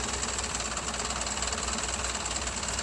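A boat engine idles steadily at an island mooring, a continuous low rumble with a faint knocking pulse that holds at an even level throughout, with no voices over it.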